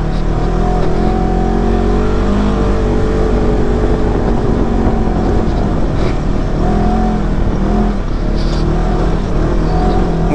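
A 2021 Polaris RZR 1000 XP side-by-side with its engine held at full throttle, a loud continuous drone with steady harmonics and little change in pitch, close and unbroken throughout.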